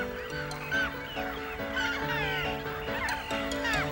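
A roseate tern colony at its nesting ground, many birds calling at once in overlapping harsh, rising calls, close and steady throughout with no pauses.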